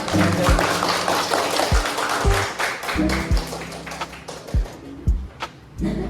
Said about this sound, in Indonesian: Chelsea, kita tepuk tangan